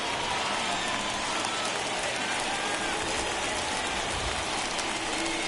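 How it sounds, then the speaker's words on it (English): Steady rain hiss from a baseball game in MLB The Show 21, a Braves versus Phillies franchise match, forming a constant broadband wash that fills the whole stretch with no break. "And Dan, when it comes to pitching in the rain, what changes"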